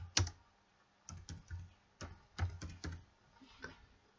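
Keystrokes on a computer keyboard while text is entered into an After Effects template, heard as short bursts of close, crisp clicks separated by brief pauses.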